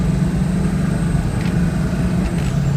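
A 1999 Ford F350 diesel 4x4 crew cab truck runs steadily nearby, a loud low throbbing engine rumble with a faint high whine on top and no speech.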